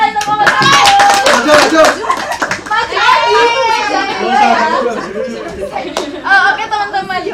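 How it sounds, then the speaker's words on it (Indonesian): A classroom of students claps in a short burst of hand claps, loud and close, with children's chatter and laughter mixed in around it. "Terus sekali tepuk tangan."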